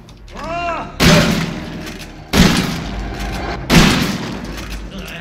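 Gunfire in the VR horror game Resident Evil 7: three loud, booming shots spaced about a second and a half apart, each with a long reverberant tail, following an eerie whooping tone.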